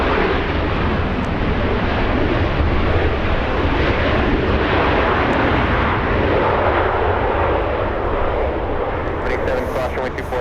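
An American Airlines jet from San Francisco comes in to land at Los Angeles International Airport, a loud, broad engine roar that stays heavy and close throughout, with a brief faint voice near the end.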